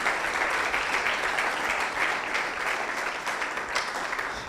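A church audience at a Spanish-language service breaks into steady applause, a dense, even wash of many hands clapping together, sustained and moderately loud for several seconds.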